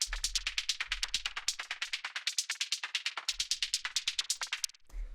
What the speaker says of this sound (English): after that we have this little white noise hi-hat sort of percussion thing